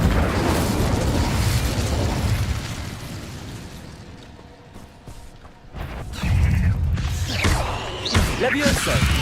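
Fire spell Incendio cast in the wizarding game Hogwarts Legacy, a loud roaring whoosh of flame with crackling bursts, fading to a quieter lull before another fiery blast; voices may be faintly present.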